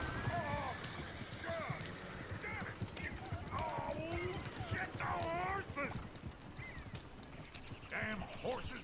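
Horse hooves clip-clop in Red Dead Redemption 2 alongside whinnies and mechanical clicking, with voices talking over the top throughout.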